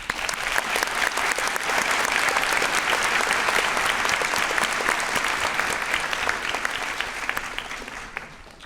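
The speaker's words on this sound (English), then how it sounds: "join me in a round of applause for some of our biggest supporters here today" A large crowd at a graduation ceremony applauds its supporters, a dense, sustained roar of many hands clapping at steady loudness for several seconds before easing slightly at the end, with no talking.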